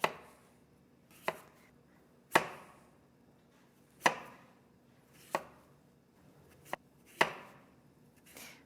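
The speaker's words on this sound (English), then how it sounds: "So you can just slice it up." A knife slices through squash for a gratin on a cutting board, about nine sharp, crisp cuts at a slow uneven pace, close and clear with quiet pauses between, no voices.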